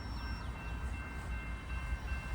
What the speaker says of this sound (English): Got a train going down the hill.